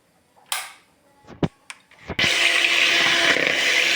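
An electric hand beater whips egg whites for a vanilla cake, starting after a few short knocks and clatters, then a steady loud whirring drone that runs to the end.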